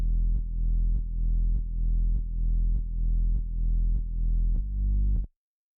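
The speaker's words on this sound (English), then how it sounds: "So it's basically the sub bass that reflects the harmony, and just to add some movement to it, I just sidechained it from the kick." Deep sub bass from a RoboCop soundtrack remake, sidechained from the kick, plays alone as a steady low drone that pumps in a regular rhythm, ducking about twice a second and changing pitch once before cutting off abruptly.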